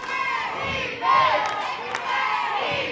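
A high school basketball crowd at an invitational tournament roars and cheers after a made shot, a dense wall of shouting voices that swells and holds steady.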